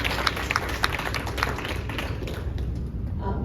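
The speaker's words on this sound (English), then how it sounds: "Let's give a round of applause to all our speakers." A small audience at a young professionals' candidate forum claps for the speakers, with a few distinct claps up front that soon settle into quieter, thinning applause.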